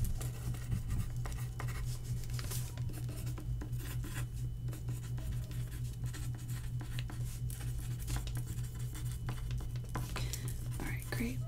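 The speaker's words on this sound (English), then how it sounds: "Let me just write these down." Measurements are written by hand with a pencil or pen, giving close, soft scratchy strokes in short bursts over a quiet background, with faint whispery sounds now and then.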